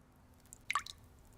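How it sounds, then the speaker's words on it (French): A single faint drip from a faucet, a short wet plop with a brief splash, in a quiet room. "Maman, le robinet coule."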